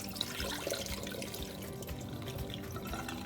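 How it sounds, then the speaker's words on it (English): Water is drained off soaked, softened rice, a faint and continuous watery trickle and splash with no speech. "Drain the water out,"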